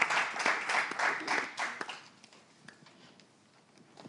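A studio audience at a contest semi-final applauds the next contestant: a burst of applause rings out for about two seconds, then dwindles into a few scattered claps as the room quiets.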